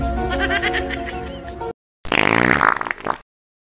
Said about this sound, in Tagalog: Utot ka ba ng utot?